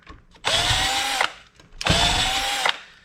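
A power drill unscrews fasteners from an old PC surge protector being scrapped: two loud, close whirring bursts of under a second each, separated by a brief pause, with no talk.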